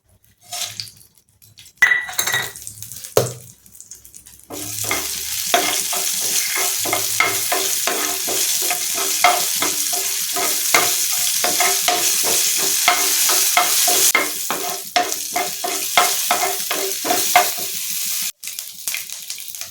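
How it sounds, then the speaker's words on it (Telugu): Tempering spices sizzle in a pan that was used to fry tomatoes, a loud continuous crackling fry with rhythmic scraping and clinking of a spoon stirring against the metal, after a few initial clatters. "ఇప్పుడు పోపు దినుసులు వేసేసుకుందాం"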